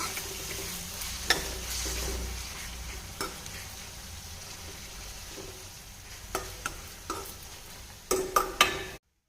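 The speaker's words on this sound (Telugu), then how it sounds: "చూడండి, ఫ్రై అవుతున్నాయి" Onions fry in a pan for egg curry, a steady close sizzle running throughout, punctuated by occasional clicks and scrapes of stirring that grow more frequent toward the end.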